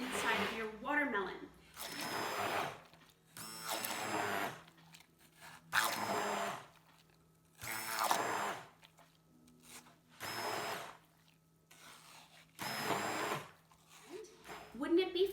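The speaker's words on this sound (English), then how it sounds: "use that lowest speed to go around and puree the inside of your watermelon" A blender on its lowest speed purees the flesh inside a whole watermelon being turned into a punch bowl, running in short whirring bursts between stretches of a person talking.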